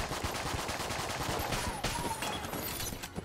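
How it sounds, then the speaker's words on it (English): Patriot gun firing in the video game Enter the Gungeon: a rapid, continuous stream of sharp shots in a dense automatic rhythm, fairly loud and steady for a few seconds with other game effects mixed in. "I didn't realize that Patriot shots pierced"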